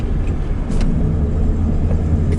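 A car drives through road traffic on a cold late-winter day, a steady close engine and tyre rumble from inside the vehicle, with light passing noise.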